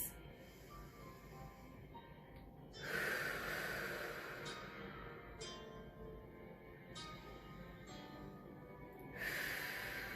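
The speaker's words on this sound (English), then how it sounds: "Deep breaths." Slow, deep breaths during a yoga session in mountain pose, each long airy inhale or exhale rising and fading as a soft hiss, close by and with no talking.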